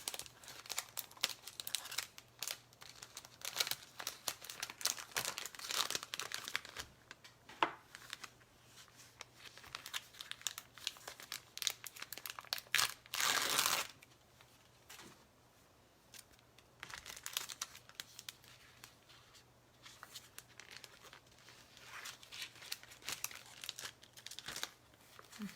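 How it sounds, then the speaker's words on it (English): Paper envelope crinkling and rustling in close, irregular bursts as a chalk stencil is slid back inside, with one louder crumpling burst midway and quieter handling toward the end. "I'm going to stick it back in the old envelope"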